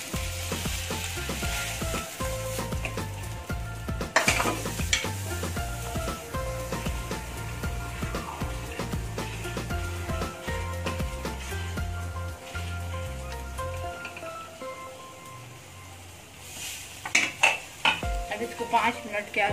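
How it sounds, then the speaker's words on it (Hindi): Paneer frying in a pan for matar paneer, with a steady loud sizzle and frequent stirring scrapes and clatters of a spoon against the pan, close up and continuous. "अच्छे से फ्राई कर लीजिए पनीर को।"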